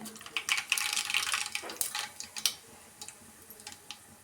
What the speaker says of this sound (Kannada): ಸಾಸಿವೆ ಸ್ವಲ್ಪ ಸಿಡಿಲಿ